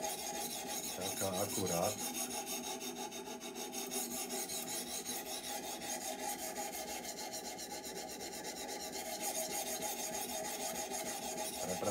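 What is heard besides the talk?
grinding the bevel of a torsion damascus knife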